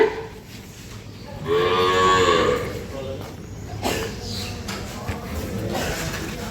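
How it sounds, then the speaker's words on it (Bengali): A Friesian-cross dairy cow on a Bangladeshi farm gives one long, loud, nearby moo with a rising, harmonic tone, followed by quieter background noise and faint voices. "আপনারা দেখছেন এখানে যে গরুটি রয়েছে সেটি চমৎকার একটি গরু দেখছি আমরা"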